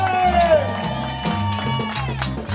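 Crowd at a Mother's Day celebration breaks into loud cheering and applause, with whoops and voices shouting over a bright, sustained wash of clapping and musical tones.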